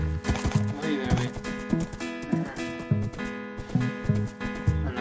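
Horse hooves clip-clop steadily in the video game Wynncraft, a repeating rhythmic trot over looping game music, close and continuous throughout.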